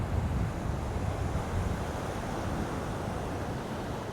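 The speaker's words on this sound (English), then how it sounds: "We have a strong wind coming in" Strong wind gusting across Hua Hin Beach in Thailand, a dense continuous roar of wind noise buffeting the microphone with surf washing underneath, steady and loud for a few seconds.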